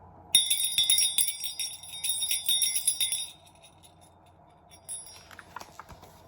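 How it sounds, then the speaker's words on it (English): A bright sleigh bell rings for about three seconds, then fades to quiet with a few faint metallic tinkles afterward. "Can you hear the bell?"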